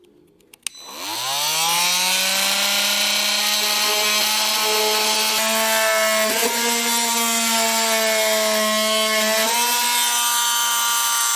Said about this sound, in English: I'm going to use a multi-tool to cut these tabs off